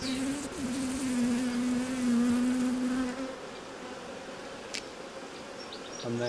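Honeybees buzz around an open hive during a routine colony examination, a close droning hum with one bee's pitch rising loud for a few seconds before fading into a softer background buzz.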